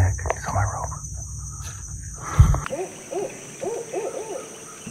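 An owl hoots at night in the Florida Everglades, a series of clear rhythmic hoots in short groups over a steady background of chirping crickets and insects, with some handling noise early on.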